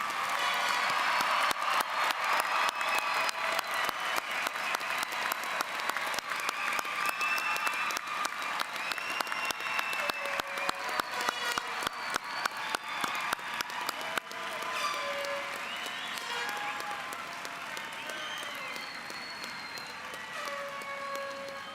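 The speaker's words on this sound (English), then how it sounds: "please join me in another round of applause for these fine graduates." A large crowd applauds graduates at a University of Houston Clear Lake commencement ceremony, producing a long, loud and continuous wash of clapping that eases slightly toward the end.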